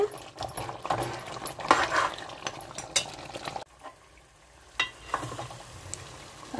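Curry leaves frying in oil for a country chicken gravy, a busy crackling sizzle with stirring scrapes that drops suddenly to a quieter simmer partway through, with a few more clinks after.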